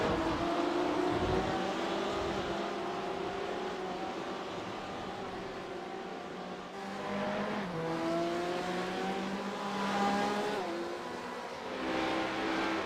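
Porsche race cars roar around Daytona in a sim racing game, steady engine drone with rising and falling revs and gear changes as the cars run close together, no talking.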